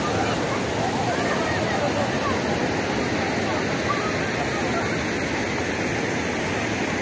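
Tugunan Falls in Prosperidad, Agusan del Sur, a waterfall where families bathe in cold water, roars as a steady, loud, broadband wash that runs unbroken throughout.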